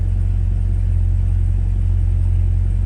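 A Cadillac Blackwing idles steadily in V mode during a loud cold start, a deep, constant engine rumble with no change in pitch, close and loud throughout.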